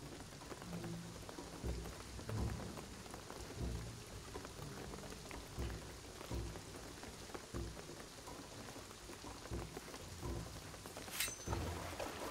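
Rain falling in Shadow of the Tomb Raider, a steady heavy downpour spattering on surfaces with low rumbling thumps throughout, fairly close and continuous, no voices.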